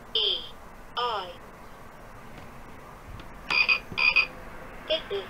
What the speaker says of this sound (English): This is the frog.